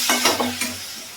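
Spice paste for fish sizzles in a pan as it is stirred, with a few scraping strokes against a steady close hiss, brief and loud, no talking.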